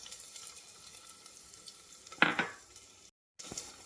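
Chopped small onions for a varagu porridge hit a pan, a quiet sizzle with a brief louder burst of frying, then a short break into silence before the soft sizzling resumes.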